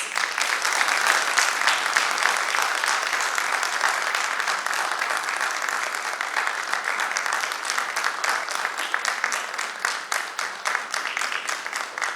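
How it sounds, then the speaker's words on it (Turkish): A concert hall audience applauds steadily to welcome a music ensemble onstage, dense sustained clapping from many hands holding at an even loudness for several seconds with no talking over it. "alkışlarınızla topluluğumuzu sahneye davet etmek istiyoruz"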